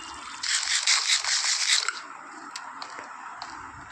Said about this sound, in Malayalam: ഫുഡ് കഴിക്കട്ടെ.